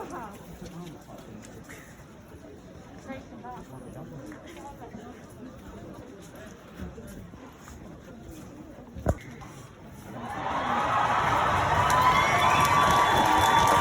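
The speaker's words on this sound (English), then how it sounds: "A brief moment of silence before a very thunderous applause." Crowd of a few hundred at a Black Lives Matter protest by the cathedral in Lincoln, 2020, starts cheering and applauding loudly and steadily after a quiet, murmuring stretch, the roar swelling and holding to the end.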